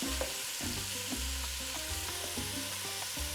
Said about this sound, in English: We're gonna do this on medium high. See how quickly they sear?